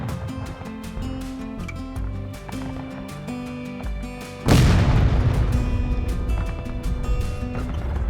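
A Civil War artillery cannon fires in a battery dueling match, a single heavy boom arriving midway over continuous background music, with a rolling roar afterward.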